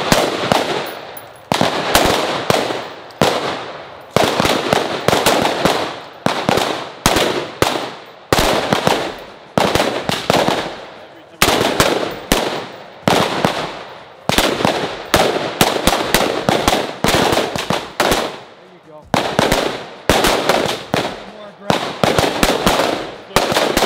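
AR-15 rifles fire during a range shooting drill, a relentless series of sharp, loud cracks in quick, uneven succession from several shooters, nearly continuous for over twenty seconds with only brief gaps.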